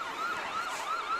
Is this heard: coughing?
no